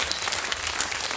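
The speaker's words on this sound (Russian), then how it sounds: "Пожалуйста, бурные аплодисменты." Audience at a folk theatre concert breaking into steady, dense applause, many hands clapping together at an even loudness with no talk over it.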